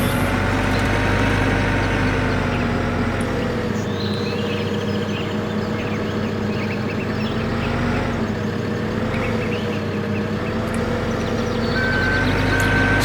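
A skid steer with its engine running steadily, a continuous mechanical drone underneath repeated high reversing beeps at a regular pace, close and prominent, with no talking.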